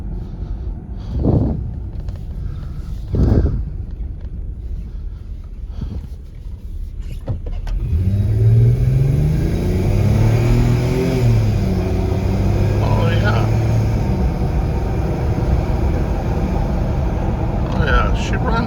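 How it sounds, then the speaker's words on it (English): A 2001 Mercedes-Benz E320 W210 sedan, an older high-mileage car, pulls away with a steady engine drone rising in pitch through several gear shifts, heard from inside the cabin; a few thumps and speech come before it gets going. "so far it runs and shifts pretty good"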